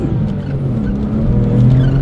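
A Porsche 911 (996 generation) Turbo with twin turbochargers accelerates hard. Its engine note climbs loud and close in a steady, rising roar.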